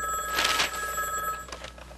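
An old telephone bell rings twice, a loud bright jangling burst followed by a shorter second ring, heard alone indoors.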